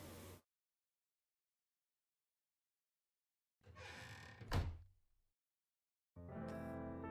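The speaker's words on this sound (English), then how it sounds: "The sound of door open and closing echo from behind." In the video game Path To Nowhere, a door opens and closes behind the scene: a brief muffled rustle ends in a sharp knock, followed by a tonal swell, all fairly quiet.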